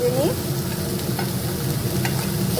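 Ginger frying in oil with spices in a home kitchen pan on a new gas stove, a dense, steady sizzle with light stirring scrapes, close and even throughout.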